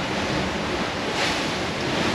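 Strong storm wind and breaking waves wash through a boat anchorage, a loud, continuous roar of surf and gusts buffeting the microphone, with no voices.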